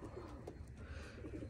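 Racing pigeons near their loft coo softly and continuously in low, rolling murmurs, with no voices.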